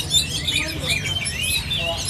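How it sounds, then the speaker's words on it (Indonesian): Young hand-fed pedet birds in a bird shop chirp continuously, a dense chorus of high, thin calls that sounds close and busy, with some background murmur. "Buat yang pertama ini ada lolohan pedet jatim."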